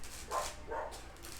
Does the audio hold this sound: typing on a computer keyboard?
no